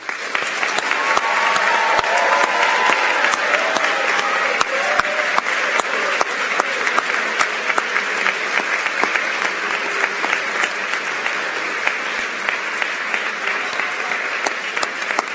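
A large audience at a high school awards ceremony applauds a quiz bowl team, with dense, steady clapping sustained for about fifteen seconds at a loud, even level.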